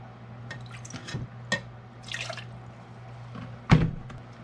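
Apple cider vinegar, a quarter cup, being poured for a salad dressing: soft trickling and dripping with a few faint clinks, quiet and close, over a steady low hum.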